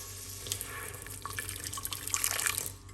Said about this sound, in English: all I'm gonna do is just tap a little bit of water